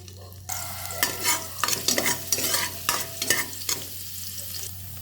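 Ginger pieces frying in hot cooking oil for a chicken sotanghon soup, a steady close sizzle broken by bursts of stirring and spatula scrapes, with a low hum beneath and no talking.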